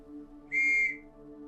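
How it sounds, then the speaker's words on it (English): In the horror visual novel Outside the Door, a single short, clear, high whistle sounds for about half a second over a steady low hum, with no voices. "Give a whistle."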